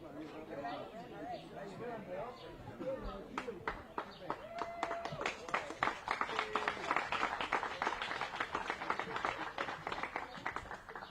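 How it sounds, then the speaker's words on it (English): Applause builds from scattered claps into a dense, steady round from a crowd, with chatter early on. "Applause in your own backyard."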